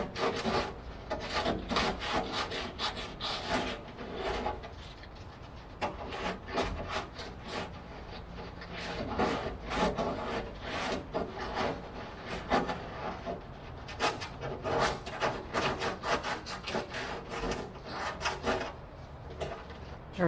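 Sandpaper scrapes back and forth across wood, smoothing a hole on a Minimax 1100R wooden aircraft build, in repeated rasping strokes, close and uneven in rhythm, continuing for a long stretch without talk.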